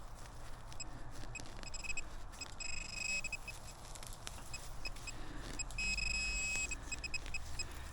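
Metal detector beeps chirp repeatedly in short bursts over a steady low rumble of outdoor forest noise, with no talking.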